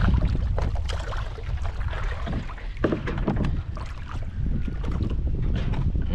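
Strong wind buffets a small fishing boat on open water, a steady roar of gusts and wind noise on the microphone with water sloshing against the hull, loud and close throughout.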